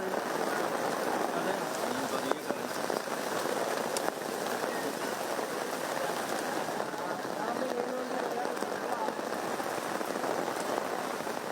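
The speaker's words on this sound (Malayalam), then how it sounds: "മഴ കനത്തു പിന്നീടത് പെരുമഴയായി മാറി" Dense, steady downpour of heavy rain hammering on surfaces, a constant broadband roar with faint speech buried beneath.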